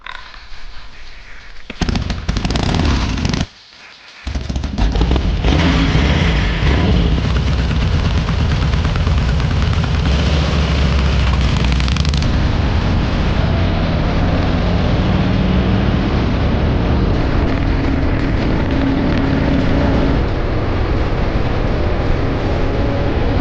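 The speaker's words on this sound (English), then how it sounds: "This was an expensive motorcycle in its day." An expensive older motorcycle engine roars loud and steady at close range, a continuous rough drone with a short drop-out early on before holding constant.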